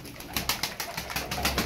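Ankara roller pigeons coo in a quick series of close, evenly spaced throaty bursts as a male chases a female, with no voices over them.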